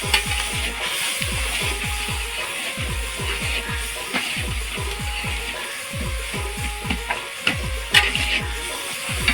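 Fish heads hiss and sizzle as they go into spiced masala in a pan for a Bengali pui chechra dish. Steady frying crackle runs under repeated scraping and stirring strokes.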